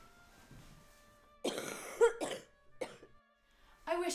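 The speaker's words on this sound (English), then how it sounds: "I wish I'd get over this miserable cough." A person coughs several times in harsh, wet bursts, close and fairly loud, with brief pauses between and a throat-clearing rasp.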